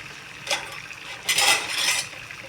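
Spatula stirring and scraping punugulu fritters in a pan of frying oil, two brief bursts of metallic clatter and sizzle, close and alone without talk.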